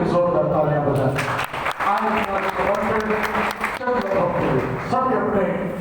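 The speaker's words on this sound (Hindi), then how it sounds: "पादरी के लिए जोरदार तालियां बजाएं" Loud, sustained applause from a congregation at a Sunday prayer meeting, clapping for the pastor, with dense rapid claps filling the whole stretch and a few brief dips.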